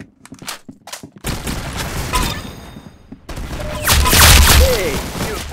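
Rapid bursts of automatic gunfire from the online shooter game Arsenal, loud and close, with sharp shots early, then a sustained fusillade and heavy booms, a voice briefly heard between bursts.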